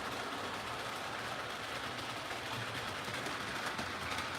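A model railroad locomotive without onboard sound runs at full speed along the track, giving a faint continuous whirring, rattling hum of small motor and wheels with no talking.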